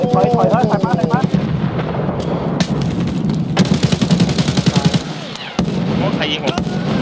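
Heavy gunfire in the shooter game Escape From Tarkov, loud and continuous, with rapid automatic bursts and booming shots layered over other in-game noise and occasional voices.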